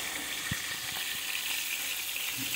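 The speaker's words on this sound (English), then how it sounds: "Hot oil going everywhere" Mackerel frying in hot oil outdoors, a steady bright crackling sizzle with small pops and spatters throughout, close and continuous without speech.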